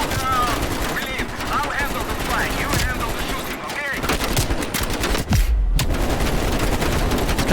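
Rapid bursts of automatic gunfire fired from a helicopter in the Call of Duty Black Ops Cold War campaign, loud and dense throughout, with rotor noise and a voice speaking over the shooting.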